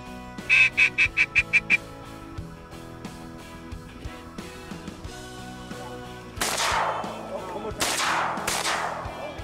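On a duck hunt, a rapid series of duck calls or quacks comes first, then a shotgun fires twice as two loud, sharp blasts a little over a second apart.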